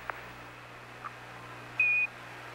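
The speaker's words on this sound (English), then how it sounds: "Give us a reading on the 1202 program alarm." The Apollo 11 lunar module computer's 1202 program alarm sounds as a single steady high-pitched tone lasting about a quarter second, over a low hum with a couple of faint clicks.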